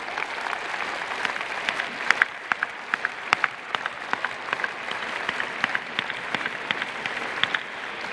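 A commencement audience at a law school graduation gives a standing ovation, with steady applause filling the hall throughout and sharper individual claps standing out near the front, no voices breaking through.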